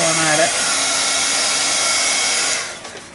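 A hair dryer blows steadily and loudly for nearly three seconds while drying freshly heat-set craft pieces, its airflow then tapering off toward the end.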